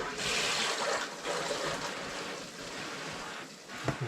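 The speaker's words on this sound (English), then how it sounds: "You hear the water rushing through." Water rushes steadily through a household sediment and carbon water filter system, a soft continuous hiss and gurgle at low level, with a faint click near the end.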